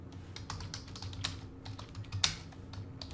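Keys clack at a steady, uneven pace as code is typed on a computer keyboard, with a couple of sharper, louder strokes standing out over a quiet low hum.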